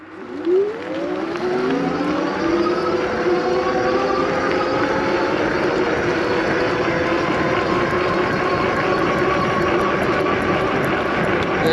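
A MacFox X1 electric bike accelerates from a stop on throttle to top speed, its motor whine sweeping steadily upward in pitch and then holding a high, even hum over tire and wind rush, close and loud throughout.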